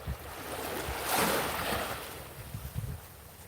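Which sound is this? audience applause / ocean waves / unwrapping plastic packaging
ocean waves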